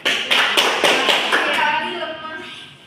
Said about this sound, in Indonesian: Tepuk hebat untuk kami semua.